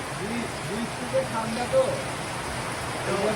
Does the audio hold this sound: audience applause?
no